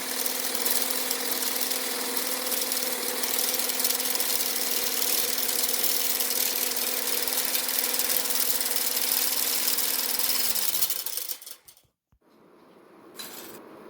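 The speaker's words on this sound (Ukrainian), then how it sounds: "Додаємо чайну ложку цукру і продовжуємо збивати на середніх обертах." An electric mixer whips at medium speed after a spoonful of sugar goes in, making a steady, close motor whine and whirring hum that runs evenly for about eleven seconds, then winds down and stops.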